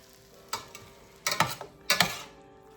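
Steak and onions are stirred around a pan in three bursts of scraping and sizzling: a short stroke first, then a longer cluster of strokes, then a final one. The sounds are close and moderately loud, with a faint frying hiss between them and no talking.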